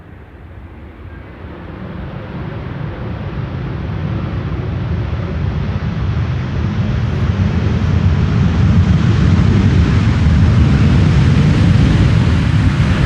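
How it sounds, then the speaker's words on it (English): A Delta Airlines A330neo lands on the Polderbaan runway at Amsterdam Schiphol: a loud, steady roar that builds and broadens as the jet nears and passes close, with no voices. "This is Delta Airlines Flight 56, arriving from Salt Lake City, A330neo"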